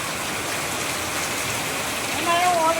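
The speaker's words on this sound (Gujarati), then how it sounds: "વરસાદ ધીમે ધીમે વધી ગયો." Steady heavy rain hisses continuously at close range as a dense, even wash of falling water, with a brief voice heard near the end.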